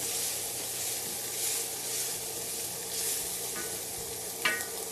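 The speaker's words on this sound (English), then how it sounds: "Those are sauteing up nicely." Peppers and onions sautéing in a pot for one-pot baked ziti give a steady, close sizzle with an occasional stir and a small clink near the end, with nobody talking.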